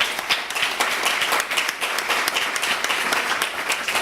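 An audience at a sports school event claps steadily and fairly loudly throughout, a dense, even wash of many hands.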